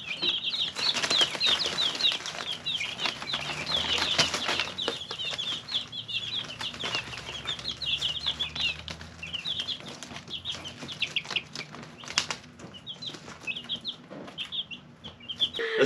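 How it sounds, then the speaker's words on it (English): Ten newly hatched baby chicks peep constantly in rapid, high chirps, with scattered soft wing flutters and shuffling close by, and no talking. "Yes, we have 10 new chicks."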